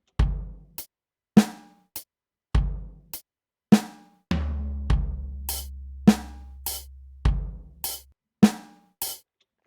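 An electronic drum pattern programmed in FL Studio repeats a kick, closed hi-hat and snare in a steady, evenly spaced loop. The hits are sharp and clean against silence, with a sustained low tone added partway through.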